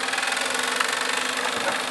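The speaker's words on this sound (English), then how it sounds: "The PlayStation 3 Blu-ray drive is making this noise." A PlayStation 3 Slim CECH-2002 Blu-ray drive with a fault gives off a steady, broadband mechanical whirring and rattling. It sounds continuous and fairly loud throughout, with a faint irregular knocking texture and no talking.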